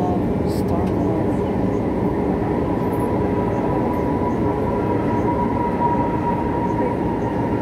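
Metro train at Shaw Boulevard station, a steady loud rumble of rolling carriages filling the whole stretch, with a voice speaking over it.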